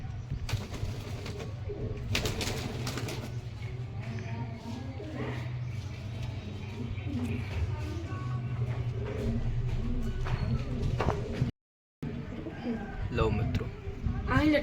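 Pigeons kept in a home loft coo steadily in low, throaty phrases, with brief wing flaps and background noise throughout; a short dropout near the end breaks the sound.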